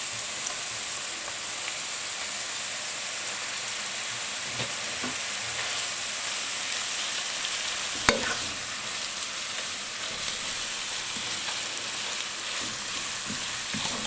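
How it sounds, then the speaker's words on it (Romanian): Grated carrot and onion sautéing with minced meat in a pan give a steady, even sizzle throughout, with a single sharper knock partway through and no voices. "Lăsăm un pic la sotat morcovul cu ceapa. Și acum adăugăm în jur de 250-300 de grame de carne tocată."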